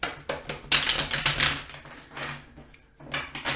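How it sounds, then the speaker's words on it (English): A deck of tarot cards is shuffled close by in quiet surroundings, making soft bursts of papery riffling and tapping that come in several short runs with small pauses between them. "I'm going to give them a shuffle"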